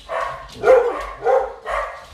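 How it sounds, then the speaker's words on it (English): Dogs in a home bark in three short, close, moderately loud bursts evenly spaced, with quiet pauses between them and no talk. "Probably hear that quite a lot on my videos because they do like to bark."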